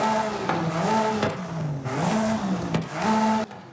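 A Porsche 911 GT3 RS4.0 in Forza Horizon 5 revs its exhaust loudly and close, the engine pitch rising and falling in several repeated blips with brief dips between them, no talking.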